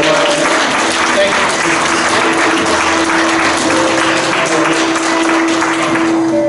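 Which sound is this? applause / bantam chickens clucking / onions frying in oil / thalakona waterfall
applause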